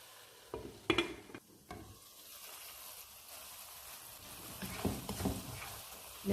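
Eggplant and vegetables cooking in a covered pan over a low flame, a faint steady sizzle under the lid, with a few clinks and knocks at the start and again toward the end.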